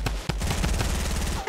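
Rapid burst of automatic gunfire in the Fortnite video game, a loud close string of shots firing in quick rhythm over about a second and a half.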